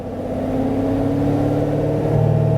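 A Chevrolet Corvette C7 Grand Sport engine hums steadily at idle with a low exhaust rumble, growing slightly deeper and louder near the end as the exhaust switches from tour to sport mode.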